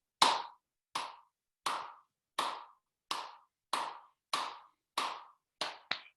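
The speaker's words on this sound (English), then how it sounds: "We clap with our fingers outstretched because that starts activating acupressure points" About ten separate hand claps made with fingers outstretched during a laughter wellness session, each sharp and close, evenly spaced at a steady pace with silence between, the last two coming slightly quicker.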